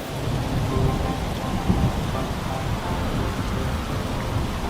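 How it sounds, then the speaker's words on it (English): Steady heavy rain pours with low rumbling thunder rolling underneath, a dense continuous wash of sound with a slightly louder rumble near the middle, no voices. "And though it rained and it poured, and the wind blew this way and that, Duck did not give up."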